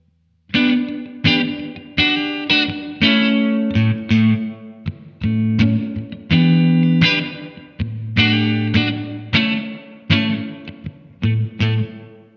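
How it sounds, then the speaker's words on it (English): A distorted electric guitar through a Blackstar Amped 2 plays a series of chords and picked notes, washed in a roomy reverb that lets each strum ring briefly. "So let's start out with a room reverb."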